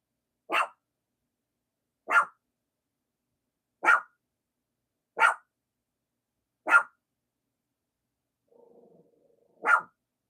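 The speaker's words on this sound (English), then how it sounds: "You hear my dog?" A dog barks alone at steady intervals, six sharp single barks spaced about a second and a half apart, close and fairly loud in a quiet indoor room, with a faint low whine between the last two.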